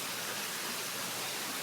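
Water from a pondless waterfall on a hydroponic strawberry wall runs in a steady, soft broadband splash, continuous and fairly quiet throughout with no voices.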